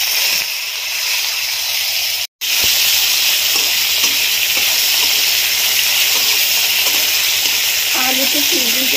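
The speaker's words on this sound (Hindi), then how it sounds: "तेल हो चुका है गरम। अब मैं अपनी आलू की सब्जी छौंक देती हूँ।" Steady, loud sizzling and crackling of potatoes being tempered in hot oil for an Indian potato dish, broken by a brief cut-out near the start, with faint clinks toward the end.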